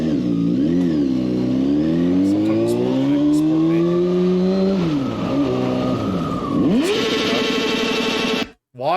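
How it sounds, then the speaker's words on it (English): A motorcycle engine revs hard and continuously, its pitch rising and falling through repeated throttle blips, loud and close, cutting off abruptly near the end. "Why are we revving?"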